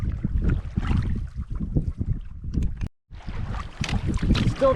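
Strong wind on a canoe trip, heard as heavy low rumbling gusts buffeting the microphone almost without pause, with one brief lull near the end.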